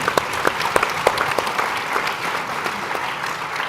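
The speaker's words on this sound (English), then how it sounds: "I would love a round of applause for that" Audience applause at an evening speaking event with an Obama speechwriter, a steady broadband wash of many hands clapping with a few sharper close claps, sustained at even loudness throughout.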